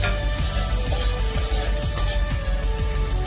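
Onions and green chillies sauté in a pan with a steady, loud, close sizzle, broken by light scraping strokes as they are stirred.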